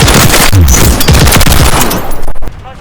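Rapid gunfire from a DTIR 30-06 rifle in Modern Warfare III, loud and close, with a dense run of shots that ends at about 2.5 seconds and then fades into a quieter tail.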